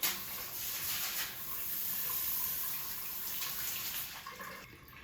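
A shower head set to rainfall mode sprays water in a steady, even hiss that stays constant and close for several seconds with no talking.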